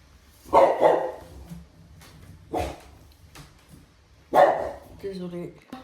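A pet dog barks indoors in loud, close bursts, three main barks with short whimpering yips at the end, while someone talks nearby.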